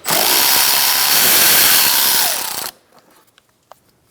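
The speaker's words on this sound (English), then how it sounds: "Using a T27, you're going to remove this bolt," A power driver fitted with a T27 Torx bit backs out a bolt on a 2012-2018 Ford Focus during inner fender liner removal, whirring loud and steady for over two seconds before stopping abruptly, followed by a few faint clicks.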